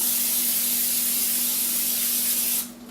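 A continuous hissing spray from an aerosol can of cooking spray onto a shallow pan, steady and close, stopping abruptly near the end over a low electrical hum.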